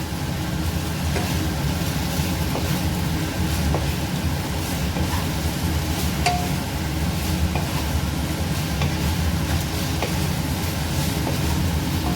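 Cauliflower pakoras being mixed into a chilli sauce in a hot pan, a continuous dense sizzle and rumble with scattered soft clicks and scrapes of tossing, steady and close throughout, no voices.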